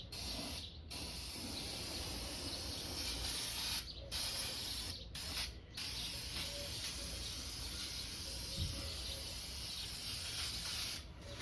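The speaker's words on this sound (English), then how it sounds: "there's a lot of spray coming off of there" Loud, continuous hissing spray that runs nearly unbroken, stopping briefly a few times before resuming, with no talking.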